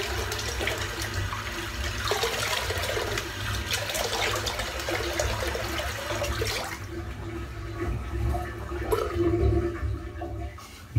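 Water is poured in for working up a goat's milk shaving soap lather: a continuous rushing, splashing flow that persists throughout, fairly close and unaccompanied by talk.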